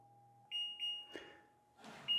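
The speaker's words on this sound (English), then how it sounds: "Timer just went off" Timer beeps from an electric pizza oven at the end of a seasoning cycle, a few steady high electronic tones in short bursts, clear and close in a quiet room.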